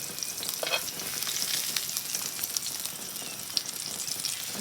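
Garlic and potatoes fry in a pan with a dense, continuous sizzle, crackling close and fairly loud with small pops throughout.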